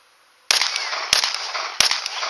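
Three sharp handgun shots crack out about two-thirds of a second apart during a shooting drill, each a loud close report with a ringing tail, and no voices.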